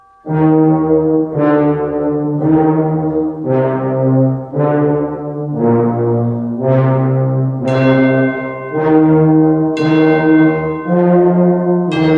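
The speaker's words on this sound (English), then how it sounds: "Here you can hear the funeral knell, played by bells." Bells tolling a funeral knell in Berlioz's Symphonie Fantastique, deep resonant strokes struck one after another at a slow steady pace, each ringing on loudly and alone.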